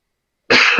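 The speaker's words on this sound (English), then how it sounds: "I've just done a cough without muting it" A single loud, close cough bursts out abruptly after a moment of silence.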